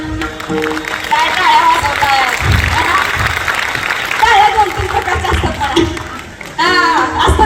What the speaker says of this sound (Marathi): त्या कॉन्ट्रॅक्टच्या नावावर टाळी करा